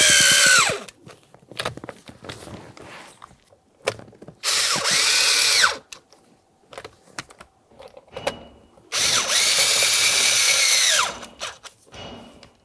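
Power drill driving screws snug on a 2006-2012 Ford Fusion during a combination switch replacement: three loud whirring bursts that wind down at the end of each, separated by quieter clicks and handling noises.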